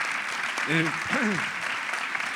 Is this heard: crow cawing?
no